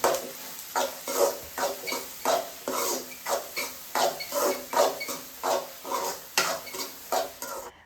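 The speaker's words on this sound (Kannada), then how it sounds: "ನೆಕ್ಸ್ಟು ಗರಂ ಮಸಾಲ, ಸಾಲ್ಟ್ ಹಾಕ್ಕೊಂಡು ಮೊಟ್ಟೆನ ನೀಟಾಗಿ ಹಸಿ ವಾಸನೆ ಹೋಗೋ ತನಕ ಹುರ್ಕೊಳ್ಳಿ" Egg being stirred in a hot pan with garam masala and salt for egg rice: steady rhythmic scraping strokes of a spatula against the pan, roughly two per second, close and moderately loud, with no talk.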